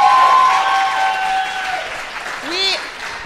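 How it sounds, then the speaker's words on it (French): A small crowd in a bistro applauds the chef during a podcast recording, clapping mixed with whoops and rising cheering voices, close and lively before fading slightly. "Applaudissez-la!"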